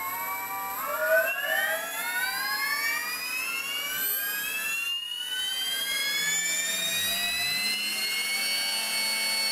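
An RC helicopter's electric motor spools up from low, its whine climbing steadily in pitch and then holding at a high, sustained tone, close and alone.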